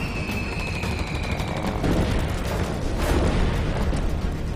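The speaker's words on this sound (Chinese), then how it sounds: "密集的炮声从位于侧翼的高家屯阵地传来" Dense artillery and gunfire from a battle at a flank position in the Liaoshen campaign, a loud continuous barrage of overlapping bangs and rumble with no pauses, heavy throughout.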